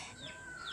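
Chickens clucking at a Philippine home flock, a faint brief burst of short bird calls with a high rising note, quiet and close.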